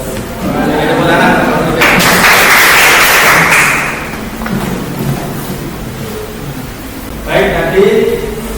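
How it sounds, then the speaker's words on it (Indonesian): Classroom group clapping after a student presentation at a teacher-training performance test in Riau, a loud burst of applause in the middle with talk before and after. "Tepuk tangan"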